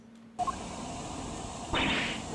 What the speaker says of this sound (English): That's the sound of a balloon.